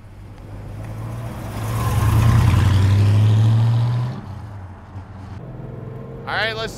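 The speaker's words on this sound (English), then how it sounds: "Look at this baby go down the street." A 1969 Dodge Charger R/T SE drives down a street, its engine rumble swelling loudly as it passes close by, then fading back to a steady hum before a brief higher sound at the end.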